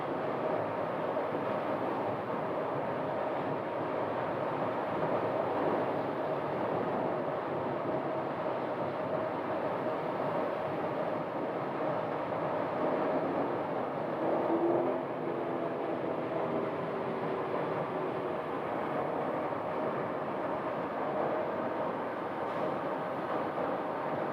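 Freight or passenger train rolling past near Sky Harbor airport in Phoenix, a steady, moderately distant rumble and whir that holds evenly for the whole stretch without talk.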